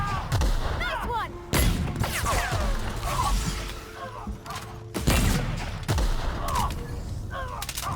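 Heavy-ammo weapon fire in The Outer Worlds, with repeated loud booming shots and rapid bursts, near and dense, mixed with whooshes, thuds and other game effects across the whole stretch.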